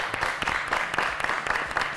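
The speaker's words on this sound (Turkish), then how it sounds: "Onun için alkışlıyoruz." Studio audience applauding on a Turkish fashion competition show, a steady dense patter of many hands clapping throughout, fairly close and alone without talk.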